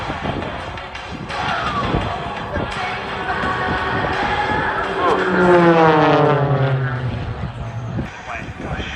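Propeller aircraft flying a stall turn at an air show, with a loud droning engine whose pitch sweeps down as it passes and turns, and a commentator's voice heard over it.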